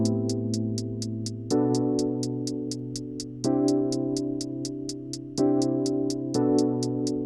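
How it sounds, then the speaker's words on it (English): A synthetic closed hi-hat ticks out steady 16th notes at full velocity in a beat, crisp and even, over sustained synth chords that change every couple of seconds. "the first one that I added was a closed hat number 1"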